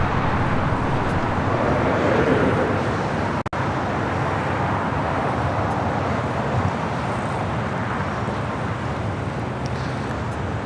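A JetBlue Airbus A321 taking off from LAX runway 25 right, heard as a steady, broad, distant jet roar that holds evenly throughout with a faint wind-like rush.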